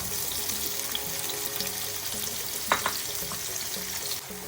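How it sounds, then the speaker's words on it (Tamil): Onions sautéing and chillies frying in a pan for mutton liver fry, a steady soft sizzle with faint stirring scrapes and a couple of brief utensil clicks midway. "நாங்கள் முதல் கறிமிளகாயை பொறிச்செடுப்போம் வெங்காயத்தை வதக்குவோம்"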